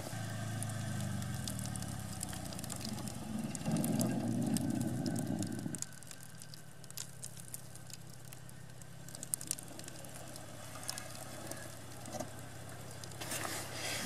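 Car pulling away gently in second gear over packed, icy snow, a low engine drone with crunching tire patter that drops off after several seconds, followed by quieter rolling crackle.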